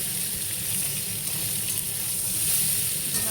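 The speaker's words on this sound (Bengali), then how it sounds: "ডিম আলুগুলো সব ভেজে নিচ্ছি" Eggs and boiled potatoes fry together in a pan with a loud, steady sizzling hiss and faint bubbling crackle, close up and unbroken, with no one talking.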